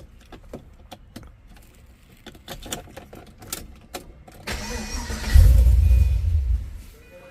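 A 2005 Pontiac GTO with a 6.0 V8 bored 20 over and a stage 3 cam idles with a light lopey chop, first amid clinking and handling noises, then swelling into a louder, nearby rumble toward the end.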